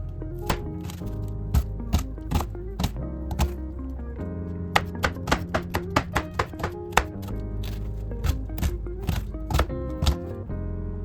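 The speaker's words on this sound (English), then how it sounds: "So we're gonna split it down the middle, and I'm just gonna go ahead and start dicing it" Knife dicing vegetables for a Greek salad on a cutting board: sharp, close chopping thunks in quick irregular bursts, with a short pause before a faster run of cuts.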